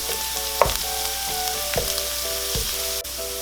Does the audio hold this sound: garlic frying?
yes